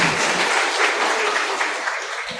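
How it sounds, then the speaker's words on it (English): An audience at an international law seminar gives sustained applause after a professor's presentation, a steady, fairly even patter of clapping throughout with no speech. "Let's give applause to Prof. Smith for the presentation."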